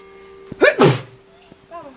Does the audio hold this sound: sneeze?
yes